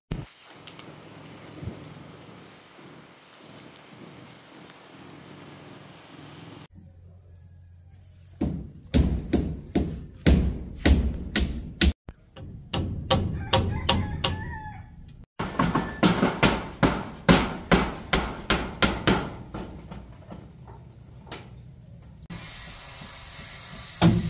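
Hammering rings out at a backyard poultry breeder house under construction, a long run of sharp, evenly spaced blows on the wooden flooring frame, close and loud, with chickens clucking and crowing nearby.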